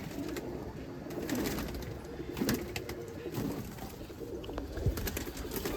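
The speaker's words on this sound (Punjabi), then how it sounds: "ਕਬੂਤਰ" Pigeons coo softly on a rooftop loft, a few low rounded calls repeating over steady background noise, with no one talking.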